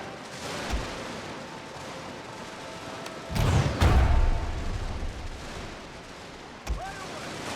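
Musket volleys and artillery sound in a Total War battle between Russian and Cossack infantry: scattered distant pops, then a heavy booming blast with rumble, and another sharp shot near the end.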